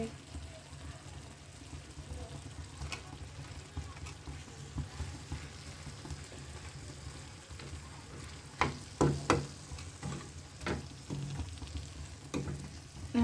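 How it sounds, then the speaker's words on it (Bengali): Rohu fish frying in a pan, a steady close sizzle with occasional sharper pops and spatters, continuing without a break under faint background noise. "রুই মাছ ভাজি করেছি"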